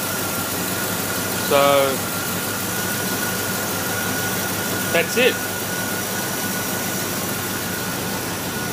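A 1981 Chevrolet Corvette C3 with standard dual exhaust and no catalytic converters idles with a steady, even rumble, while someone speaks briefly twice over it.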